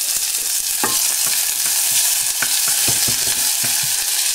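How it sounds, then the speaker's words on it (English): Chopped onions frying in a spoonful of olive oil in a hot pan, a steady loud sizzle with repeated scraping stir clicks throughout, no talk. "There's a bit of olive oil, just a spoonful of olive oil in there, and you can see in go the onions, and they start to crisp up"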